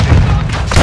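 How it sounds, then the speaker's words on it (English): Mortar strike in Call of Duty: Modern Warfare II multiplayer: a loud, close, deep booming blast with heavy low-end rumble sustained through the moment, resurging near the end, with no talk over it. "Hostile mortar striking."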